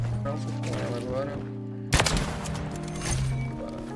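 Gunfire in a multiplayer shooter video game, a sharp close burst of shots cutting through game music and background sound, followed by a few scattered reports, while someone talks in Portuguese.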